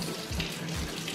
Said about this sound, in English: I'm actually washing my hands.